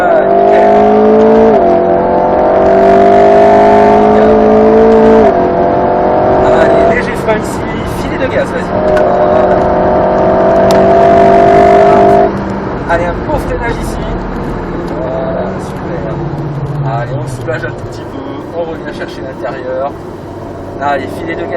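An Alpine A110 S sports car drives hard around a race circuit, its engine revving and holding steady tones, then dropping and climbing again through gear changes as an instructor talks over the engine noise throughout.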